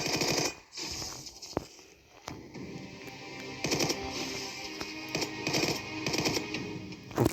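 Rapid bursts of gunfire in a Roblox zombie shooting game, repeated sharp volleys with brief gaps, fairly loud and continuous through the stretch.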